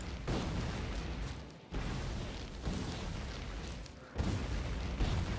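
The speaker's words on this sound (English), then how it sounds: "We're going to do this with grenades" Grenades blast trees apart in Factorio, and deep rumbling booms roll almost without a break, with several new blasts hitting on top of each other as the noise keeps going, loud and close.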